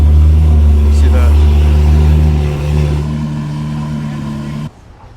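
A Porsche 997 Carrera 4 GTS with a six-speed manual runs close by with a loud, deep, droning engine note that eases slightly in pitch and volume before cutting off sharply near the end.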